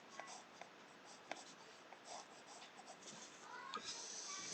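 A colored pencil strokes across paper in short, close scratchy bursts, faint and dry, with a few firmer strokes toward the end.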